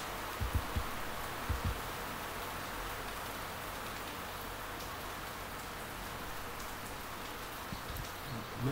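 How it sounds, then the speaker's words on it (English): Steady rain falls outdoors in a constant broadband wash, with a few brief louder knocks and taps near the start and end; no one speaks. "so if the rain is a little loud"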